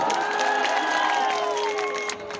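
Audience at a Chhattisgarhi stage show claps and cheers together, a sustained burst of applause with a held musical tone ringing underneath, fading slightly at the end.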